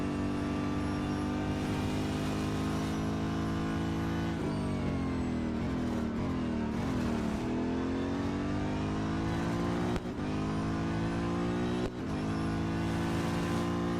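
A racing car engine in Real Racing 3 roars continuously during a multi-lap race, rising and falling with gear shifts and revving, loud and steady throughout with no voices.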